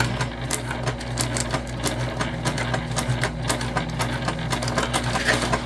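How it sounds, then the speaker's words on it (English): A sewing machine runs steadily, stitching a 3/8 inch seam on a big tote bag, its rapid needle clatter loud and close with no talking. "We're gonna sew about a 3/8 inch seam allowance here"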